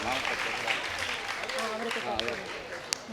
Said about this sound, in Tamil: அனைவரும் ஒரு தரம் கைத்தட்டுவோம்